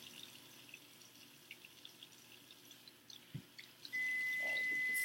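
Tap water runs into a sink for hand washing, starting abruptly about four seconds in as a steady, fairly loud rush after a few quiet drips and small clatters.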